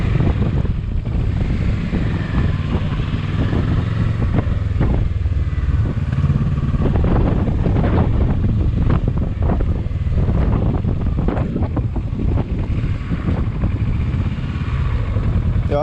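A Kawasaki Versys 650 motorcycle rides along with a steady engine drone under constant loud wind noise buffeting the microphone, with no letup throughout.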